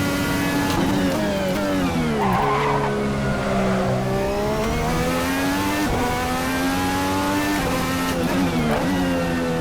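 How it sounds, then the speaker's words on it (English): A 2020 IndyCar engine in the Assetto Corsa racing game screams at high revs throughout, pitch dipping on downshifts and climbing again, with tire squeal mixed in and no talking. "Just a screaming fast car."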